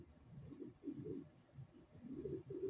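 Pigeons cooing close by, low throaty burbling coos repeating in soft rolling phrases, with no talk over them.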